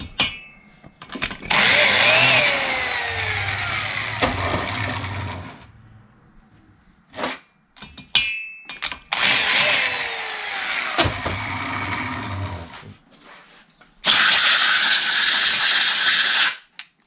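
A grinding stone dressed to 30 degrees cuts a valve seat in an air-cooled Volkswagen 041 cylinder head, giving bursts of loud, high, hissing grinding that last a few seconds each, with quiet gaps between them.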